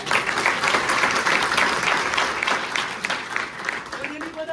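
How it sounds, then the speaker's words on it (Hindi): A burst of clapping from a group of people at a motivational training session, steady and lively, continuing for several seconds before tapering slightly. "एक बार इनके लिए ताली बजा दो"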